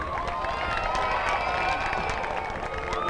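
A high school girls lacrosse crowd, North Quincy versus Quincy, cheers and claps steadily, with scattered shouts and whoops rising over a continuous wash of clapping at a moderate distance.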